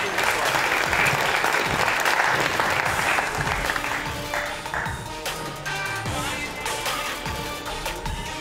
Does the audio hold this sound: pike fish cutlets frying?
no